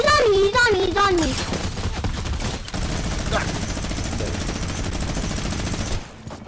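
Rapid drum gun bursts from a Fortnite squads match, a dense fusillade of automatic fire running almost continuously up close, with voices talking over the shooting.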